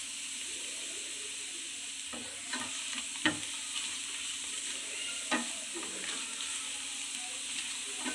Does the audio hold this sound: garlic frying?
yes